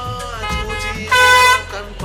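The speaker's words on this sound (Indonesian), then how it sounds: "Kupingku belajar kebal sama suara klakson yang gak ada berhentinya" Loud truck and car horns honk near an industrial port zone in North Jakarta amid heavy container truck traffic, with one long blaring blast standing out over a steady roadside din.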